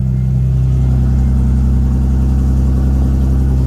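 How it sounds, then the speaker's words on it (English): A BMW E46 engine idles right after a cold start, a loud, steady low rumble with an even, fast-ticking pulse and no voices. "There's the cold start for that one."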